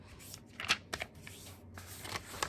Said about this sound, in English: you're going to fold each side into the center.